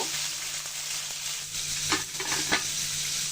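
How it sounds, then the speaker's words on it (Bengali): Taki fish are turned as they fry in a pan. A steady, close sizzle runs the whole time, broken by a few scraping knocks from the turning. "টাকি মাছগুলো উল্টে পাল্টে ভেজে নিব"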